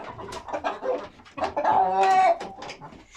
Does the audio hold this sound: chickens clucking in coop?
yes